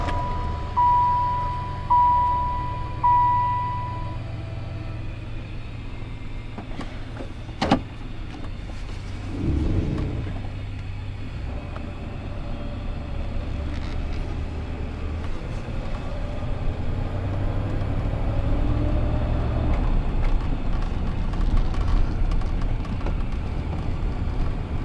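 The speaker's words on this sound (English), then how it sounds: "we're going to take this truck on a short drive around the dealership lot" A 1995 Dodge Ram 1500 SLT Laramie RWD pickup driving slowly around a dealership lot, with a steady low engine and road rumble building gradually, after a few soft chimes and a sharp click near the start.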